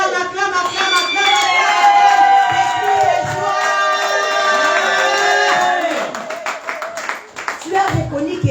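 A church congregation claps, cheers and shouts together in a loud, lively burst while voices call out over the crowd, with the noise tapering into scattered clapping near the end.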